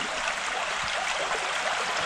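A flowing brook gives a steady, close rushing and babbling wash of water, even and unbroken throughout the short stretch, with no voices.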